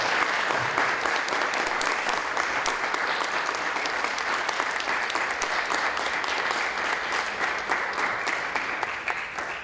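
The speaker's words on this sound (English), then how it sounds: "Let's give the candidates a round of applause." Sustained audience applause for candidates at a state assembly candidate forum, dense steady clapping filling the room for nearly ten seconds at an even level.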